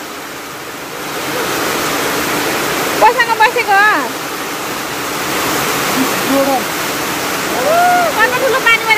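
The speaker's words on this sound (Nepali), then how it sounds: "कस्तो ठुलो पानी परेको।" Heavy monsoon rain pours steadily in Pokhara on a rainy day, a dense continuous wash of water noise, with people talking over it at moments.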